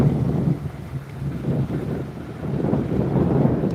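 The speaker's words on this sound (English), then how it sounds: "Wind's blowing me back again." Steady wind buffets a microphone outdoors on a boat while bass fishing, a continuous low rumbling roar with gusty swells and no talking.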